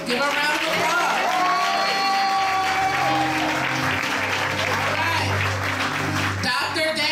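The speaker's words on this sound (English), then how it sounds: "Give her a round of applause." Sustained loud applause from a large audience at a graduation ceremony, steady clapping with scattered cheers and voices over it.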